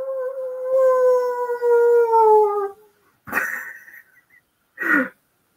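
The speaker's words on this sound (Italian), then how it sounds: "Ululi." A dog or wolf gives a long, drawn-out howl that slowly falls in pitch, then two short, sharp yelping cries after brief pauses.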